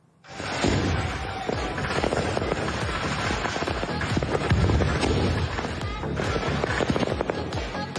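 Fireworks set up in front of a house on a residential road in Segamat, Malaysia, burst in a dense, continuous barrage of loud crackling bangs and booms lasting several seconds.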